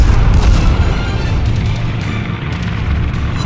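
Heavy naval gunfire from an Iowa battleship in World of Warships, a loud booming blast with rumbling low-end decay that fills the whole stretch, no talk.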